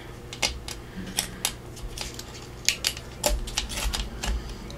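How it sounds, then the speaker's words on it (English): A junk mail envelope is torn by hand with rough, uneven rips, making a series of short, crisp, close-up tearing bursts separated by brief pauses. "So let's go ahead and tear that off, and I want to keep with the rough tear"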